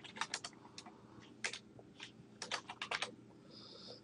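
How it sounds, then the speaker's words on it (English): Quiet, close keystrokes on a computer keyboard come in short irregular bursts of clicks with brief pauses between them, with no voices. "I'm going to type block again"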